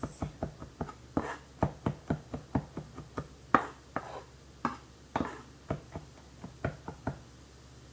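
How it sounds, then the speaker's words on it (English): Fresh garlic is minced with a knife on a cutting board, giving a quick run of sharp, evenly paced chops, close and crisp, that keep going without a pause. "So give that a mince"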